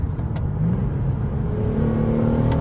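A car with a VQ engine revs hard under paddle-shift acceleration, a loud sustained engine drone heard from inside the cabin, rising steadily in pitch through the gears.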